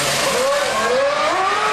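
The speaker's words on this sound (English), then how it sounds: "this Rubens coming around the final corner." A Ferrari Formula 1 car rounds the final corner at the 2001 Hungarian Grand Prix, its loud high-pitched engine whine rising and shifting through gears, steady and close, with commentary talk beneath.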